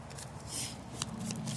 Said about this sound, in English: Shuffle before I deal.